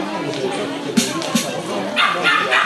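A dog lets out a few short, close yips and barks amid loud chatter and crowd noise.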